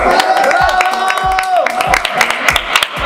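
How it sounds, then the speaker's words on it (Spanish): Crew and onlookers clap for dancers who have just finished on a shoot set, scattered sharp hand claps with a few cheers running under a voice talking over them, close and lively. "¡Un aplauso grande!"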